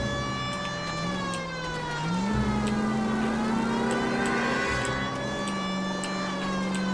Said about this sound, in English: Let's put my sirens on.